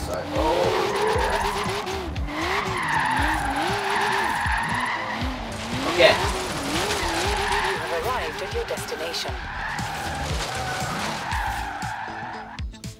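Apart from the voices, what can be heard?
Toyota AE86 twin-cam drifting and skidding in video game Forza Horizon 3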